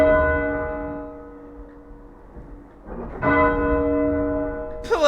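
A church bell tolls with long ringing tones, a strike that fades slowly and then another louder strike, ending with a sharp brighter clang, with no voices.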